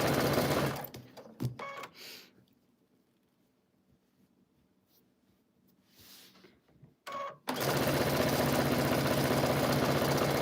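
A sewing machine stitches flying geese quilt blocks, its fast steady mechanical whir running loud and close at the start, stopping during a long quiet stretch, then resuming strongly near the end.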